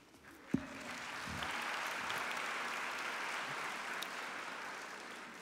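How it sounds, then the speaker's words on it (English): Audience applause fills a hall at a LifeBridge Health gala, a broad steady wash of clapping that swells early after a brief thump and holds evenly to the end. "You do need to applaud loud because we can't see you"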